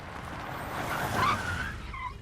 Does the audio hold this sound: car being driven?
yes